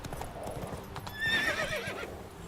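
Roach, a horse in the video game The Witcher 3, gallops with quick rhythmic hoof clip-clops, then gives a loud whinny that rises and falls before the hoofbeats carry on.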